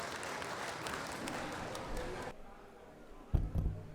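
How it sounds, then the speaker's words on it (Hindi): An audience at a farmers' gathering in Mathura claps for a couple of seconds, a soft, distant patter that stops abruptly and is followed by a few brief thumps and handling noises. "एक बार जोरदार तालियां बजा दीजिए।"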